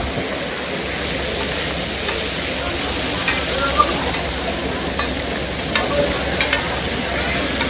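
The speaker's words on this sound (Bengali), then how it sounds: "এখন আমাদের মাছটা ভাজা হবে, মশলা মাখা শেষ।" Spice-coated hilsa fish frying at a riverside spot, a strong, even sizzle and crackle throughout, with a few small pops and faint background murmur, no clear talk.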